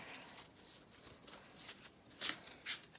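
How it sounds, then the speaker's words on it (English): Tarot cards are handled and drawn two at a time in a quiet, close setting: soft papery slides and shuffles with a few sharper card snaps near the end, faint and intimate. "Taking out 2 cards together."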